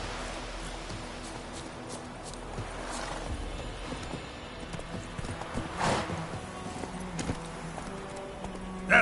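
Roach, the horse in The Witcher 3: Wild Hunt, clip-clopping along with steady, fairly close hoofbeats over a soft ambient bed, plus a brief neigh, with no talk.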